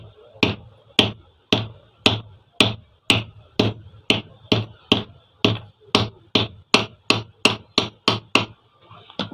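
Steady, evenly spaced hammer blows tap fan wiring into place during a fan bearing change, about twenty sharp close strikes in a regular rhythm, loud and without speech.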